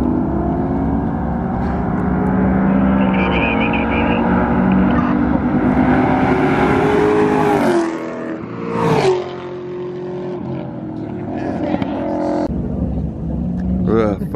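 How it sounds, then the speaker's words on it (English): A vehicle engine idling and running steadily, a loud continuous low hum that holds for several seconds, shifts briefly, then settles again, with no voices over it. "I have a vehicle running their engine in the"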